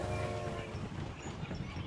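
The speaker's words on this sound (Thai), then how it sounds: "รถไฟออก" A train departs in the video game PUBG, a brief rumbling rail sound with a faint tonal hum at the start, heard at low volume.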